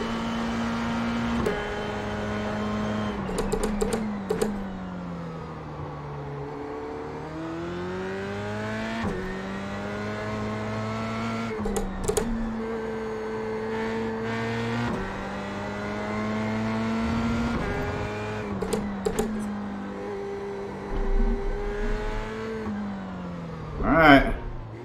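A Formula 3 race car engine on an out lap in a sim-racing game, its note rising and falling through repeated gear changes and throttle lifts, with occasional clicks and a louder burst near the end.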